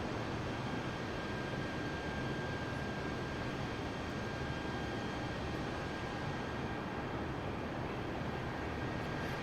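Steady engine drone of an airliner cruising on autopilot in Microsoft Flight Simulator 2020, on a flight from JFK to Chicago O'Hare, a constant broadband roar with a faint high whine that stays even throughout and has no talk.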